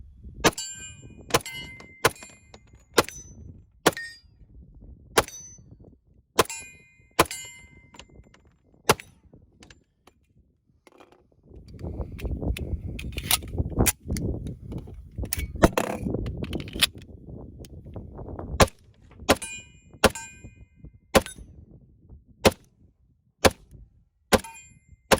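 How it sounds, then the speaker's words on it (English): A TISAS 1911 Duty SS45R pistol fires full metal jacket rounds in a long, steady string of sharp, cracking reports spaced about a second apart, with a stretch of rumbling background noise midway through and no voices. "let's just keep shooting"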